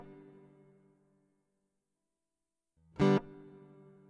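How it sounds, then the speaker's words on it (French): An electric guitar sustains a ringing chord that fades into silence, then a sharp strum bursts out and decays into a huge, washy reverb tail, with no talking. "On pourrait faire pareil avec une réverb, d'ailleurs. Je vais prendre une réverb que je vais charger."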